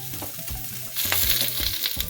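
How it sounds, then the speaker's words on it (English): Harissa-coated cauliflower steaks sear in hot olive oil with a loud, crackling sizzle that swells after about a second, mixed with a few low clunks of the pan and no talking. "Gently put that in there, nice little sizzle."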